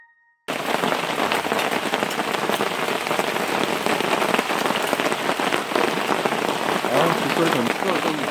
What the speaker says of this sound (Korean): 빗소리 좀